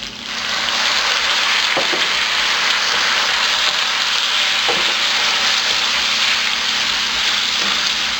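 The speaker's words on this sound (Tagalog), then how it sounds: "Next, ilalagay na natin dito yung sherry cooking wine." A steady, loud sizzle and crackle of frying pancit miki with grilled pork belly in a hot pan as sherry cooking wine goes in, a dense continuous hiss with a few soft clinks of a utensil.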